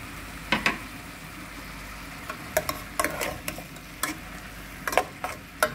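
Chicken seasoned with salt and crushed red chilli is stirred in a pan: a low background sizzle under irregular clicking spatula scrapes and taps, close by, with no talking.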